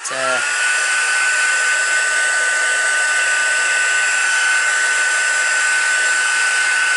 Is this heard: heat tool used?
yes